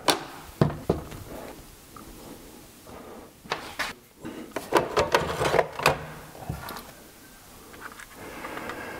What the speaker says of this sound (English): find the screwdriver, uh, remove all those screws